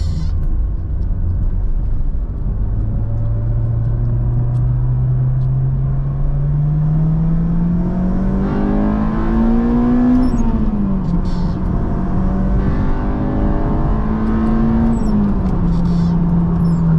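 A car engine with a new clutch revs up through the gears on a night drive, heard from the cabin as a loud continuous drone that climbs in pitch, dips at shifts and climbs again.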